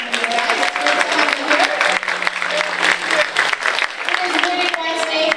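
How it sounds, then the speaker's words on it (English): A crowd at a baseball game in Royal Athletic Park's stadium applauds, steady dense clapping mixed with cheers and a brief tone, with voices underneath throughout. "Give them a round of applause."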